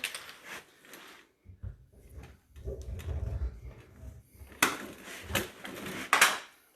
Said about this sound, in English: I'm going to open this door.